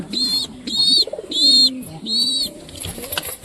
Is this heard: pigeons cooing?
yes